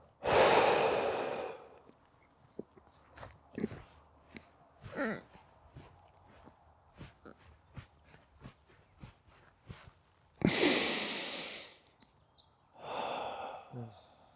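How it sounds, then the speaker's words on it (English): A person forcefully blows all their air out in a long close exhale, holds with quiet clicks and small sounds in between, then draws a loud deep breath back in, followed by another breath. "So I'd blow all of my air out."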